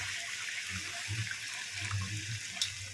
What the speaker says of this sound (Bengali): মশলা কষে তেল ছেড়ে গেছে, দিয়ে দিচ্ছি গরম জল।